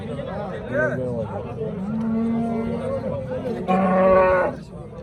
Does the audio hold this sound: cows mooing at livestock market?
yes